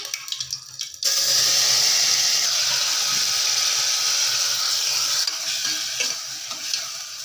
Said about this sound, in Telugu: ఆయిల్ అయితే వేడెక్కాక టమోటాలు అయితే వేసుకోవాలి